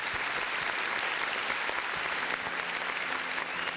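Church congregation applauding during a worship service, dense continuous clapping throughout at an even level, with no talk over it.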